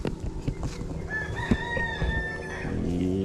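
A rooster crows loudly and close by, with hens clucking around it and a farmyard bustle underneath.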